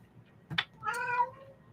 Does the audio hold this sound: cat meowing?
yes